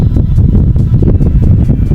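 Strong wind buffets the microphone outdoors during an airgun pest-control hunt, producing loud, continuous low rumbling with rapid gusty flutters and no speech.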